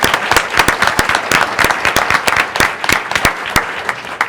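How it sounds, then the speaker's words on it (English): Audience applause at a school board of trustees meeting, steady dense clapping from a crowd with sharp individual claps standing out, loud and close, continuing throughout. "Let's give her a round of applause."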